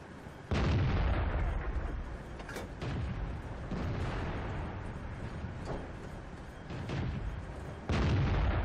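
In World of Tanks, a T-34-2 tank fires on Sand River, heavy cannon booms landing several times a few seconds apart over a low battle rumble.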